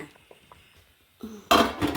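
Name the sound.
boiled potatoes poured into a strainer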